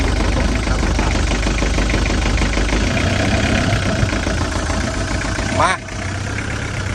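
High-roof van engine running at a rough, knocking idle close by, its low rumble steady before easing down, with people talking over it.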